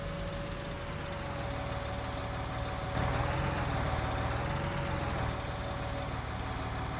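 A tractor engine pulls a plough across a farm field, its steady, loud diesel drone and rhythmic knocking continuous throughout with a slight surge midway, no voices present.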